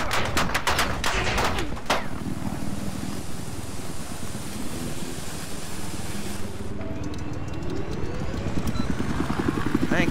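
A military helicopter in Battlefield 4 thrums steadily throughout, with sharp bursts of gunfire early on and a player talking over the rotor drone.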